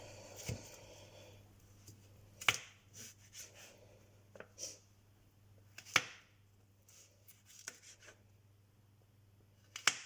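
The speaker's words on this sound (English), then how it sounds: "after I've finished the rest of this carrot up, I'll start chopping my mushrooms" A knife chopping a carrot on a board, with sparse separate cuts a second or more apart, sharp and close, against a quiet room with a faint low hum.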